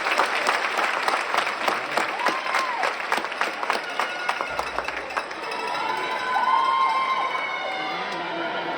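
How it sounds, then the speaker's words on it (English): Families cheer and applaud for students at a middle school graduation ceremony held in a high school venue, a dense, lively crowd roar with clapping, shouts and whoops throughout, surging louder toward the end. "I completely understand folks wanting to cheer."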